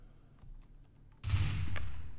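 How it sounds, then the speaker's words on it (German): A sudden burst of rapid video game gunfire in Trouble in Terrorist Town erupts after a quiet stretch and continues as a dense, sharp clatter. "Ich hab Schüsse gehört."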